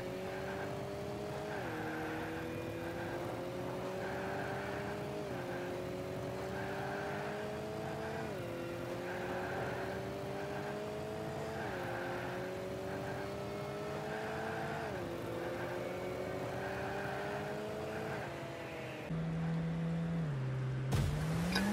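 Cars in the video game Rocket League drive around in repeated turning circles, their engine tones rising and dropping in a steady cycle about every three seconds, with a louder, lower engine note near the end.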